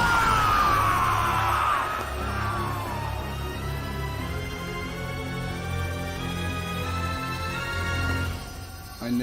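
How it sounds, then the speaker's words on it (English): Screaming, yelling voices from the video game Sonic Frontiers, with a rising cry early on over a sustained tonal game score, the voices blending into a steady mix for several seconds. "I never heard those screams"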